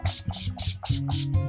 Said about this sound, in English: Give myself a little spray.